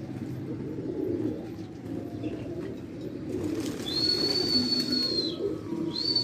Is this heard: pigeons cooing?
yes